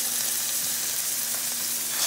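Ground meat sizzles and fries steadily in a pan with sautéed, browned onions and garlic. The crackle stays close and even throughout, with no talking.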